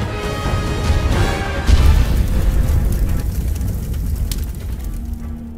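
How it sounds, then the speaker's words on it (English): Loud explosions in the military shooter SOCOM 4 give a deep booming blast that peaks partway through. Rumbling debris and crackle follow and fade out slowly. "Oh, and did we mention the explosions?"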